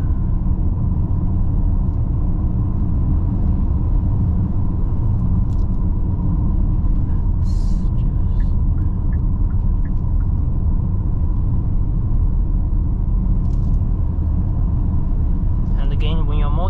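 Inside a 2022 Kia Sorento 2.2 diesel cruising in comfort mode, a constant low engine and road rumble fills the cabin, steady and loud, with a few faint clicks over it.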